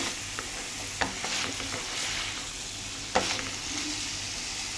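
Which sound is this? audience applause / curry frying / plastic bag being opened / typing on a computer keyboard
curry frying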